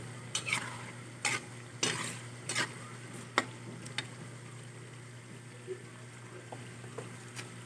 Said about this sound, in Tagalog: Medyo tutustahin lang natin yung bawang, tapos pwede na yan.